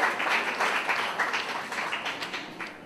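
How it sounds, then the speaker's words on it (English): Outdoor county fair crowd applauding cattle exhibitors in the show ring, a steady wash of clapping from many hands that holds through and stays moderately loud, with no voices over it. "if everybody could please give a big round of applause to these exhibitors out here"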